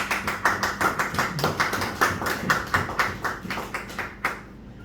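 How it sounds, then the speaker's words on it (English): Steady rhythmic clapping by a single person or small group at a water authority sensitization meeting on southern coastal highway works, about a dozen crisp, regular claps close by with no talk. "Hold on, can I clap for that?"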